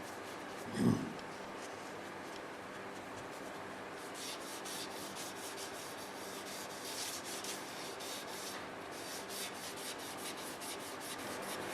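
A silver maple wood bowl being scraped by hand: continuous soft rasping and rubbing strokes, close and fairly quiet, with one brief louder bump near the start and steadier repeated strokes later on.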